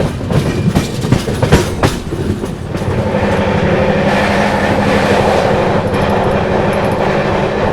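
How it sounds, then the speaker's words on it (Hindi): Andhra Pradesh Superfast Express pulling out of Chandrapur railway station and picking up speed, a loud continuous rumble of coaches and wheels with clattering rail joints building into a steady roar close by. "चलिए दोस्तों, निकल गई ट्रेन अपनी चंद्रपुर रेलवे स्टेशन से।"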